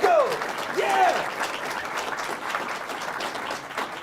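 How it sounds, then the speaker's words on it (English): An audience at a film festival award show bursts into loud, dense applause, with a few voices cheering near the start before the clapping settles into a steady roar. "So round of applause for Malco."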